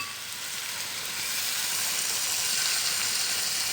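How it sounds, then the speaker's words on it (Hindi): Seasoned vegetables sauté in hot oil in a pan over a high flame for a Mexican-style chicken fajita rice, giving a steady, close sizzle that holds without a break and grows a little louder toward the end. "अब हम इसको भी इसमें फ्राई कर लेंगे, सौते कर लेंगे।"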